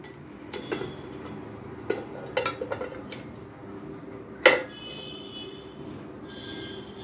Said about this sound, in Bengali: প্রেশার কুকারের ঢাকনাটা খুলে এইবার আমরা ভাপের বাটির ঢাকনাটা খুলব।